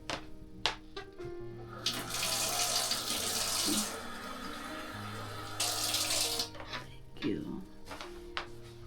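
A water tap runs in two loud bursts of gushing flow into a sink, with clinks and handling sounds between and around them and a voice speaking briefly.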